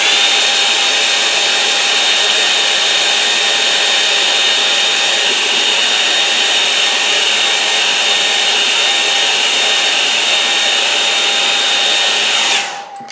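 A hair dryer blowing on a gouache painting, a loud, continuous close whooshing hum with a steady whine that holds for about twelve seconds before cutting off.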